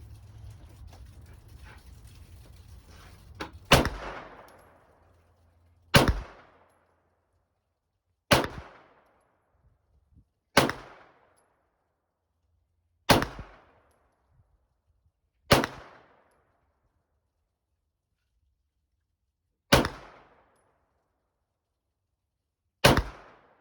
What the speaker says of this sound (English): It's going to be 25-yard shot, 10 shots at 25.